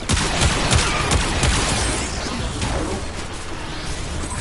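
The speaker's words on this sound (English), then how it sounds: "Why are you shooting at me?" Rapid gunfire fills a video game firefight, dense overlapping shots and crashes pounding steadily throughout with a few whooshes mixed in, loud and close.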